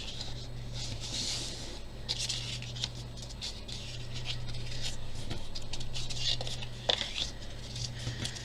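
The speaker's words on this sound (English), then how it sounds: "we're going to fold on all of these score lines" Paper card from a craft kit being folded along its pre-scored lines: soft, scratchy rustling and brushing strokes over a steady low hum, close and fairly quiet, with no talking.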